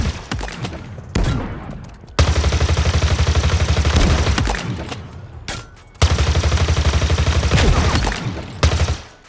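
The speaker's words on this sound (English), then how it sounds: "We then have the trusty Needler." The Needler fires in Halo Infinite, two long bursts of rapid, rattling shots, loud and close, separated by brief pauses with scattered clicks.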